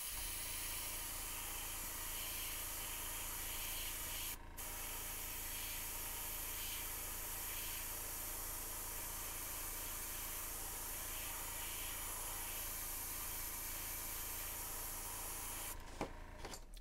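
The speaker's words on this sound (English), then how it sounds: "I will go ahead and hook up the last airbrush, and we'll do a little test to make sure she runs good" An airbrush on test after the last brush is hooked up, giving a steady, close, even hiss of spraying air that runs unbroken for the whole stretch, with a brief click near the start and a small knock at the end.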